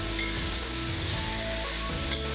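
Minced meat fries in oil in a pan as a loud, dense, continuous sizzle with faint stirring scrapes, close up and without talk.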